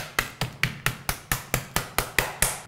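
Chicken is pounded with a meat pounder in about a dozen sharp, evenly spaced whacks, each one close and crisp with a short decay.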